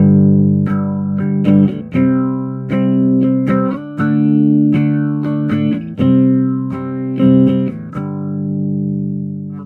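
Guitar chords and picked notes run through a modulation effect pedal at its default settings, the sustained tone gently sweeping and wavering, loud and close with no talking, before a final chord fades out.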